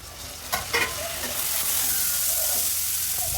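Onions frying in hot oil with cumin seeds and green chilli for a chole masala: a few stirring scrapes at first, then a steady, loud, close sizzle that fills the rest of the moment.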